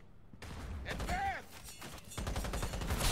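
Gunfire in the video game Cyberpunk 2077 Phantom Liberty: loud bursts of rapid shots and heavy thuds crowding the clip, with a brief rising whine in the middle.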